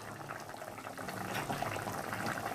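Fried fish added to a spicy curry gravy simmering in a pan, the gravy bubbling steadily and close throughout, with no talk.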